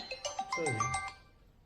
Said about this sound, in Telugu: అయ్యో ఫోన్ ఎవరో చేస్తున్నారే